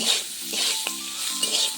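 Pond fish fries in hot oil with turmeric, chili powder and salt in a village kitchen, giving a brief, steady close sizzle with a few soft stirring scrapes and clinks.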